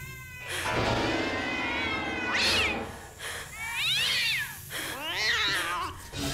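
Repeated meowing from a cat in the Ju-on The Grudge haunted house simulator game, several drawn-out rising and falling meows in sequence, fairly loud and close, with no talk over them.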